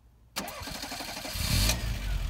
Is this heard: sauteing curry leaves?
no